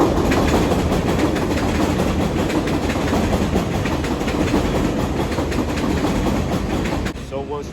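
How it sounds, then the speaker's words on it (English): A train rolls past with a loud, steady rumble and rhythmic clickety-clack of wheels on rails, sustained throughout before dropping off sharply at the end. "watch the train."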